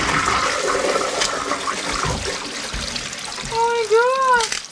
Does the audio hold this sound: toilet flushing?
yes